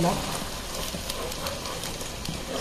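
Chicken masala with raw spices sautés in a pan, giving a steady, dense sizzle and frying crackle at close range throughout.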